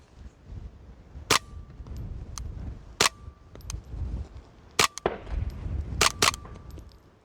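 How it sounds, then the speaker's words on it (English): Five quiet, sharp cracks of rimfire rifle shots through an Energetic Armament NYX Mod2 suppressor at uneven intervals, the last two fired close together, with low background rumble between. "I'll just shoot a few rounds and then we'll switch."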